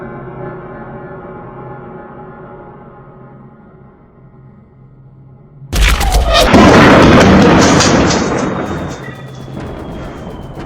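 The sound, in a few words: artillery shells exploding, WWI Battle of the Somme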